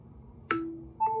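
An iPhone 17 Pro Max chimes when it is attached to a MagSafe charger power bank. The chime is short and faint, with one bright tone and a second soft tone after it, in a quiet room.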